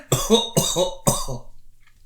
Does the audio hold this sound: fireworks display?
no